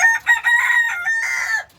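A rooster kept in a coop with a hen crows loudly at close range, one full cock-a-doodle-doo lasting most of the moment.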